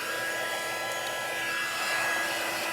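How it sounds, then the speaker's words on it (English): A heat tool blows steadily for heat embossing, a continuous close airy whoosh like a hair dryer with a faint whine, alone and even throughout. "now I'm going to bring in my heat tool and I'm going to heat emboss this."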